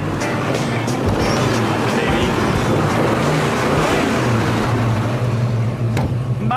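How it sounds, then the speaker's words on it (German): A deep, rumbling large V8 car engine idles and burbles steadily close by, a full, throaty sound throughout with no speech. "Der satte Klang des voluminösen V8 soll Peter aus dem Haus locken."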